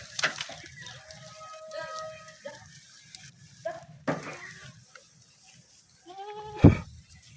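A pregnant goat on a farm bleats a few times in short, separate calls, the last one loudest and closest, with quiet rustling and faint voices between.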